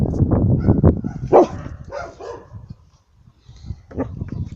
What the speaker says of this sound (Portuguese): Estão a ouvir-o a ladrar, pessoal?